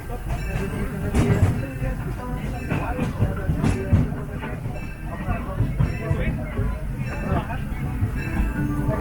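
The Disneyland Railroad train rolls along in the rain with a continuous low rumble and faint rhythmic wheel clatter. A crowd murmurs beneath it and an announcer speaks over it.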